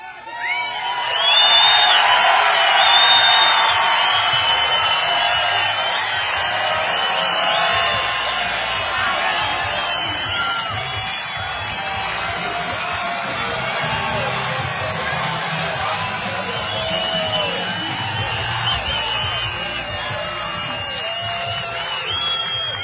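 A large crowd at a Bassmaster Elite Series fishing tournament weigh-in cheers and yells continuously, loud and close, with whoops and shouts rising at the start and sustained roaring throughout.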